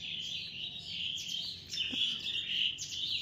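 Birds chirp and tweet continuously in high, bright bursts, several calls overlapping at moderate distance with no talking.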